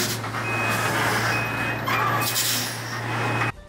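A truck in a video game reverses and maneuvers, its reversing beeps repeating steadily over a constant engine drone for several seconds, then cutting off abruptly.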